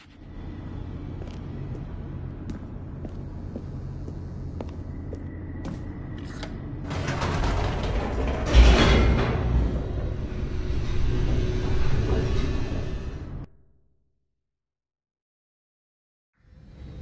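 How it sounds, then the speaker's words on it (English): An elevator descends in the video game The Stanley Parable. A steady low mechanical hum and rumble grows into a louder, rattling roar partway through, then cuts off abruptly into silence. "The elevator raced downward, plummeting towards an unknown fate."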